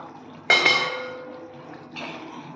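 A metal lid lifted off a pot of tomato pickle on the stove, giving one sharp ringing clink that decays into a soft hum, then a quieter scrape.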